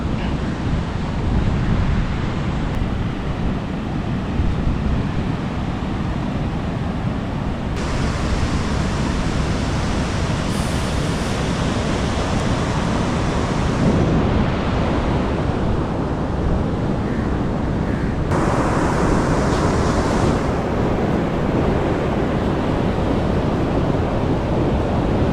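Sea waves at Gokarna beach make a steady, broad roar of surf for the whole stretch, mixed with gusty wind buffeting the microphone, and no voices.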